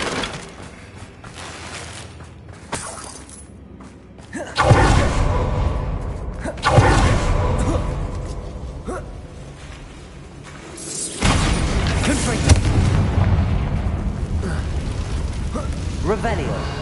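Bombarda blasting spell explosions in the video game Hogwarts Legacy, several loud broadband booms and whooshes bursting out in stages, with talk heard in between.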